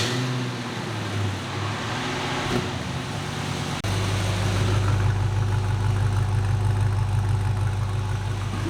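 An LS-swapped El Camino engine fired up with a new exhaust, starting with a low idle and then settling into a louder, steady deep rumble close by.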